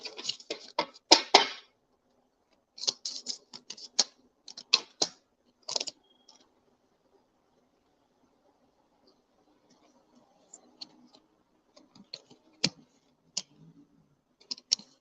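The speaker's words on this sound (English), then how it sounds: "Let me go ahead and shuffle again, just in case." Tarot cards shuffled by hand in a quiet room, bursts of quick riffling clicks in several separate rounds, close and fairly faint, with sparse ticking in the gaps.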